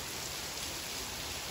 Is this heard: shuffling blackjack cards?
no